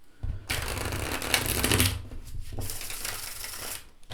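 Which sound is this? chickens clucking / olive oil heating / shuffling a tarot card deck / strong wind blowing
shuffling a tarot card deck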